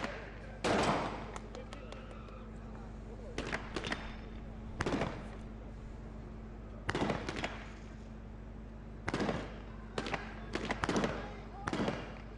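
MP5 submachine gun fire from a Colombian team during a SWAT assault course at a competition, heard as sharp, loud bursts and single shots recurring across the clip, mixed with some distant voices.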